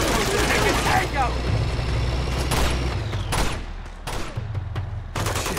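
A tank blasts away in the video game Uncharted 2, heavy booming gunfire and explosions rolling out in bursts over a rumbling engine, loud and close, with someone talking over the action.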